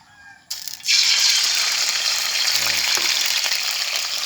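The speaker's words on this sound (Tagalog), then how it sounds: "Pag mainit na po yung yung mantika po, saka po natin ilalagay po yung manok." Soaked native chicken drops into hot oil and bursts into a loud, continuous crackling sizzle that holds steady after the splash.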